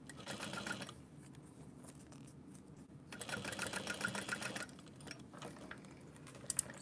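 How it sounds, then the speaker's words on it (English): A sewing machine runs in bursts while basting a layer of fabric in place, its steady mechanical whir rising and pausing between short stitching runs, close and moderately loud. "Okay, so I'm just going to baste this on so that I know it doesn't shift."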